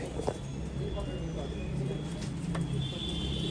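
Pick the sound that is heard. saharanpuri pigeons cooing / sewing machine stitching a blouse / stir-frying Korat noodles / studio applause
saharanpuri pigeons cooing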